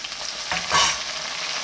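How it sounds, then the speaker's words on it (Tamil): Onions and tomatoes sautéing in a pan for fenugreek kuzhambu: a steady close sizzle with a brief swell of stirring and scraping midway, loud and unaccompanied by speech. "அதையும் நல்லா வதக்கிக்கோங்க"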